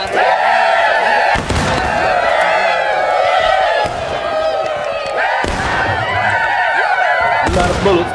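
Gunfire in a Pickett's Charge battle from a multiplayer video game: loud, sharp shots burst out every couple of seconds over a dense, continuous din of battle noise and distant shouting.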